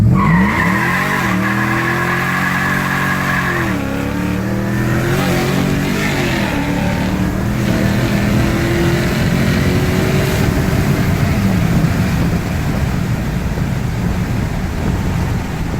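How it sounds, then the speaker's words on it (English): A 2018 Toyota Tundra hot rod truck with over 600 HP launches hard from a stop on a private road, engine revving up with rising gear pulls and loud tire squeal, close and continuous. "I'm just gonna romp on it and show you what she does."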